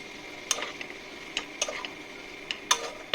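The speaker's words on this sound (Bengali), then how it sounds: "ওইগুলোও দিয়ে দিলাম, দিয়ে ওগুলোকেও একটু মশলার সঙ্গে কষিয়ে নিচ্ছি" Fried potato and papaya pieces being sautéed with spices in a pan, heard as sparse metallic scrapes and clinks of a spatula over a faint background sizzle, with no talking.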